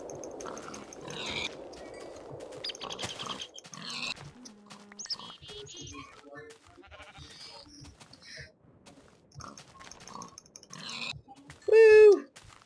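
A pig oinks in the Minecraft Tekkit modpack, a short loud grunting burst near the end that rises above quieter clicks, footsteps and scattered game sounds.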